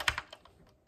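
A Gateron yellow switch with a pink escape keycap, mounted in a first custom keyboard with nothing around it, gets pressed a few quick times, each keystroke a soft, hollow click close by.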